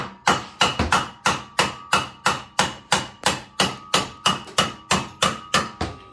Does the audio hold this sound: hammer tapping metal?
yes